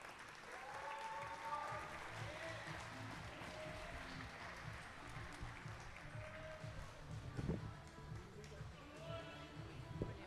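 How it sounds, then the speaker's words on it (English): Applause for the two starters at a long course swimming championship in an indoor pool hall, a fairly quiet, steady patter that holds throughout with voices and poolside chatter mixed in and a louder bump near the middle. "Please give them a big round of applause"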